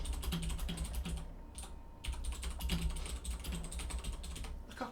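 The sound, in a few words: typing on Razer BlackWidow keyboard dampened with rubber rings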